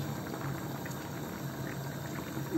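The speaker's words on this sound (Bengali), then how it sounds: "এখন ভালোভাবে ফুটে গিয়েছে, এবার বসিয়ে দেব।" A pot of Chinese-style biryani with ghee and garam masala simmers at a steady boil, a continuous soft bubbling and hiss heard close by, with no voices.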